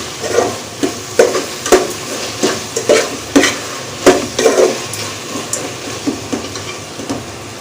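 Ginger garlic paste frying in a pan while being stirred, with regular scraping strokes and clacks of the spoon over a constant sizzle, close and loud.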